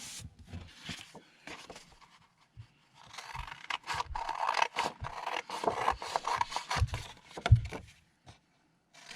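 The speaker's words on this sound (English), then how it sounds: "Cut these out real quick." Paper pieces for a journal being cut out by hand, a run of close, dry rasping and scraping strokes in uneven bursts with short pauses, no talking.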